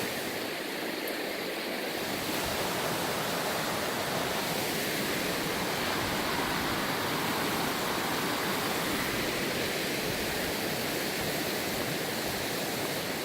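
Swift river water rushes through rocky narrows on a mountain hiking loop, making a steady, broadband roar that fills the whole clip without pause.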